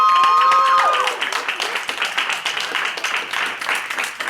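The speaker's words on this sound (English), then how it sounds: "Matthew, applause!" Audience at a poetry slam applauding after the judges' scores, a dense continuous clapping crowd from the start, with a brief tonal sound at the opening.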